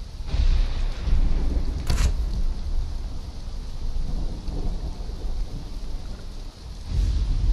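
Steady heavy rain hisses in the survival video game Conan Exiles while thunder rolls and rumbles underneath, with one sharper crack partway through and no voices.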